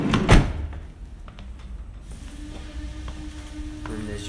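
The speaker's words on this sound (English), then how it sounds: "Sliding door on the side. Opens nice and freely." Sliding side door of a 2016 Volkswagen Caddy van rolls open with a sharp knock at the start, followed by a smooth, steady running rumble, close by with no talk.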